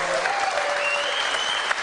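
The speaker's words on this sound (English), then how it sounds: "Very enthusiastic crowd tonight, giving a standing ovation for the Bills captain, Mr. Fred Jackson." A theater audience gives a standing ovation to a Buffalo Bills football captain, a brief, loud burst of dense clapping that fills the room.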